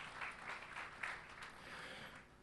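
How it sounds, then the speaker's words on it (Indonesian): A church congregation applauding during a worship service, a brief wash of soft clapping heard at a distance, fairly faint. "yang mengerti tepuk tangan yang meriah bagi Tuhan"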